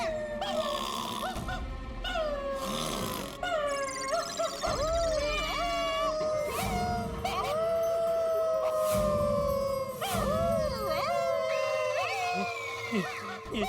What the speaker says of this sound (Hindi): घर में कुत्ता भी है।